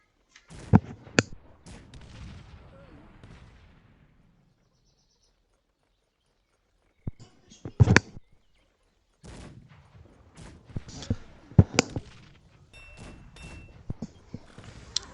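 Cannon exchange of fire in the video game Cossacks 3: sharp, loud booms at irregular intervals, several clustered together, separated by quieter stretches of near silence and faint ambient clatter.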